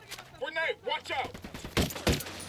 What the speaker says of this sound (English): How many sniper shots you gonna take, bitch?